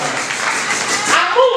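A church congregation applauding, dense steady clapping throughout with voices singing or calling out over it toward the end.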